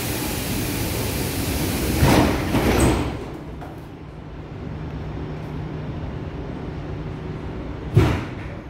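Doors of a Bucharest metro M3 train close with a loud broadband rush and thump, then a steady rumble of the carriage follows before a second sharp clunk near the end.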